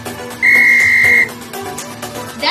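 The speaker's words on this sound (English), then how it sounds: "if you heard me whistling once" A tour guide's single sharp whistle blast on a street tour in Vigan City, Ilocos Sur: one steady high tone held for under a second, loud and close, followed by quieter street ambience.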